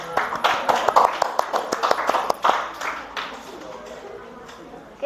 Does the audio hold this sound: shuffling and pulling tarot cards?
no